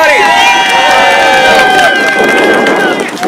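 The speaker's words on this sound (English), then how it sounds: "Let's give them a big round of applause, everybody." A crowd at a union nurses' rally outside a hospital cheers and claps loudly and continuously, with whistles and shouts rising over the general roar.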